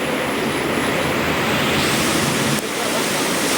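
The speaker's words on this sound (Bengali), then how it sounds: "একবারে প্রচুর পরিমাণে বৃষ্টি পড়তেছে" Heavy rain pours with gusting wind during a village storm, a dense, loud, continuous roar of falling water with no break and no voices.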